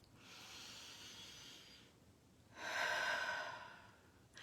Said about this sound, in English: So let's take a breath.